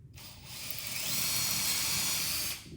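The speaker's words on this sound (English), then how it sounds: "All you need to do is just to line up on your marking, drill these holes." A power drill with a bit bores a hole for a bench build: a whining hiss rises quickly, holds steady for about two seconds, then winds down, close and alone.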